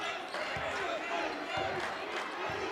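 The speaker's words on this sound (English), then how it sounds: "And the crowd is getting loud here in the Kettle." Home crowd in a college basketball arena, the Kettle, growing loud during a close game, a steady roar of cheering voices with a few ball bounces and thuds in the mix.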